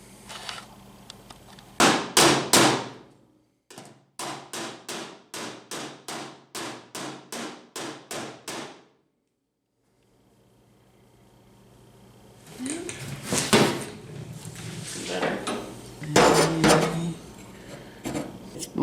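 A hammer and dolly knock a dent out of the body panel of a 1971 Chevy Blazer, with loud, rapid metallic strikes in quick rhythmic bursts, a pause, then another run of sharper irregular blows.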